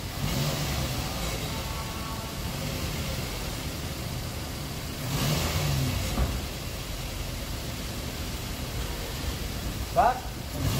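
A vehicle engine revs repeatedly during a service check at a workshop, a fairly steady rumble that swells around the middle and near the end, with voices calling out over it.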